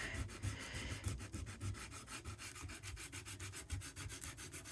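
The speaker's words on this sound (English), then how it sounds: "and just sanded on the edge" Sandpaper rubbing back and forth along the edge of embossed paper, a steady run of quick, close, soft scratchy strokes with no voices.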